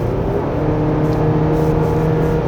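A 2025 Chevrolet Colorado Z71 pickup pulls away and accelerates on a winding road, its engine drone steady and fairly loud with a low, continuous hum throughout.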